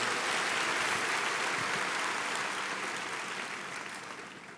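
Church congregation at a Sunday worship service applauding together, a dense, steady wash of many hands clapping that gradually fades toward the end, with no talk over it.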